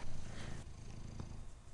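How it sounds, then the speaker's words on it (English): A pet cat purring close by, a steady low rumbling drone that continues throughout, soft and alone with no talk. "That's the cat. That purring."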